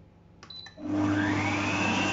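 Red lentil burger dough for gluten-free vegan patties is blended in a food processor. A few light clicks come first, then the motor starts and holds a loud, steady whirring drone.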